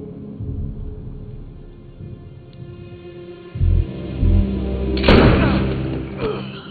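Single sharp gunshot in a tense Batman Arkham Knight cutscene, loud and close, rising out of a low rumbling score about five seconds in, with a softer thud shortly after.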